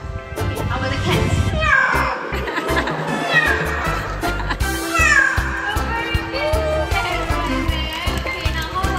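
A bird at a live show imitates cat meows, giving several whiny, rising and falling mewing calls over a noisy crowd where children chatter and laugh.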